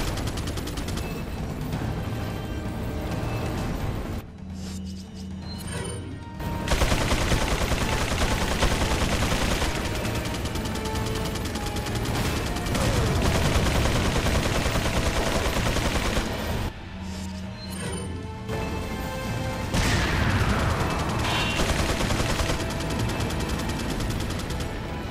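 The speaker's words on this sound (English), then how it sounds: "Ay, Dios, las queridas torretas." Gun turrets in Resident Evil 4 fire sustained, loud automatic bursts that run almost continuously, broken by two short pauses before the dense rattling resumes.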